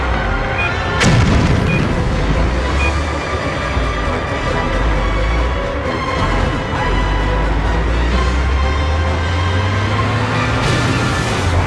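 Booming explosions in a PS2 driving video game, a sharp blast near the start followed by a dense roar of engine and crashing noise, with a rising engine whine toward the end, no talk.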